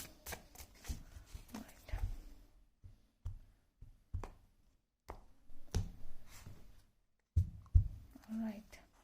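Soft, intermittent riffling and tapping of cards being shuffled up close, in short bursts separated by quiet gaps, with a low voice murmuring in between.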